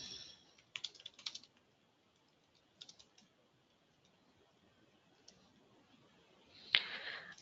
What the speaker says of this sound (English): So I'll just type in one word here to show you what you can do.